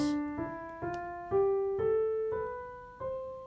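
Eight sustained notes climb step by step in an ascending major scale, each held briefly and played alone.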